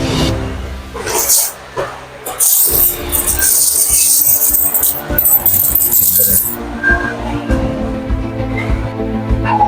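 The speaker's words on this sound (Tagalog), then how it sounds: "Puro barya." Coins jingle and clink continuously while money is counted by hand, loud and close, with rattling handfuls and scattered metallic chinks.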